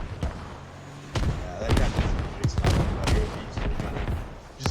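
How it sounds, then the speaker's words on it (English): Rockets fired from an MTLB armored vehicle in the video game Squad, several loud sharp blasts and booming impacts in quick irregular succession amid ongoing battle noise. "And rockets now coming in from the MTLB."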